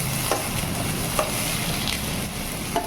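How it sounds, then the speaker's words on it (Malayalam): Onions sauté in hot oil for a quick mutton curry, crackling densely and continuously while a spoon scrapes and stirs the pan in a few brief strokes. "സവോള നന്നായി വഴറ്റി വരാനായിട്ട്"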